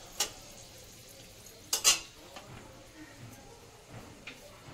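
Whole garam masala, black peppercorns and cloves hitting hot oil for tempering, giving a soft, quiet sizzle with a couple of sharp crackling bursts and faint utensil clinks in a home kitchen.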